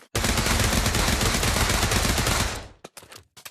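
A gun in the Pavlov Shack VR game fires in one sustained rapid burst, loud and close, lasting over two seconds before trailing off into a few faint clicks.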